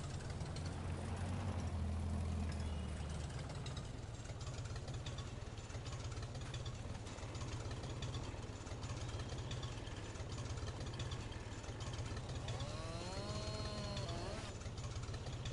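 A tractor engine idles in Farming Simulator 22, a steady low mechanical drone that runs unbroken through the whole stretch with no voices over it.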